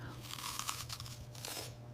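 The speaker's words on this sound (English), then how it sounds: "Wow, listen to that crunch." A crisp Gala apple is bitten into, giving a run of sharp, wet crunching snaps up close, loud and alone with no talk.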